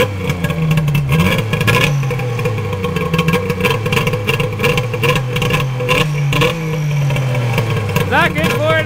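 A freshly rebuilt XLT triple engine on its first start, revving and rising and falling in pitch, loud and close throughout, with people talking over it.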